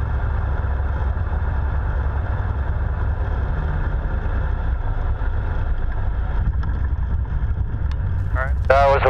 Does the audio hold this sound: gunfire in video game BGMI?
no